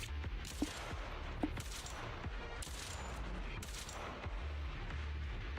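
Sustained gunfire in the Granblue Fantasy game, a steady rattle of rapid shots with a few sharper cracks standing out, moderately quiet and continuous with no talk.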